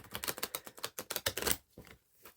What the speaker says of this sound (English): I do a butterfly shuffle, so it shuffles quite well.